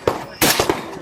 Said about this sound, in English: New flow-through can from Silencer Co.